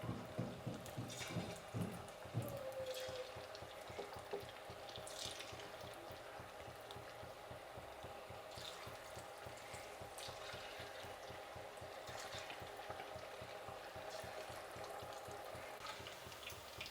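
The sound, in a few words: aloo kebabs deep frying in hot oil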